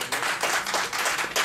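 A church congregation applauds during a sermon, a dense, steady wash of many hands clapping together, fairly close and even for a brief stretch with no voices on top.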